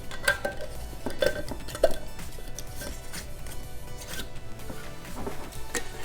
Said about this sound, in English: And we are just gonna put the lids on these.